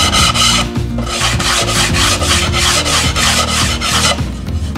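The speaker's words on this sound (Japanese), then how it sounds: "じゃあ、ざっとサンドペーパーで面を取ります。" Sandpaper rasps along the edges of a plywood trimmer table in steady, rhythmic back-and-forth strokes, loud and close, with no talking.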